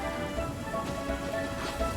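Steady rain patter in Genshin Impact's Liyue region, a continuous even wash of falling drops with faint game tones running underneath, no voices.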